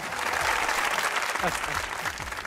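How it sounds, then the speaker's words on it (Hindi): A studio audience on a comedy talk show bursts into sustained, dense clapping that stays loud and even throughout, with faint voices mixed in underneath. "तालियां।"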